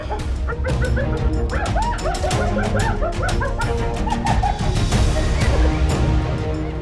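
A pack of hyenas whoops and cackles in high, warbling yelps, many overlapping calls close by over rumbling background noise.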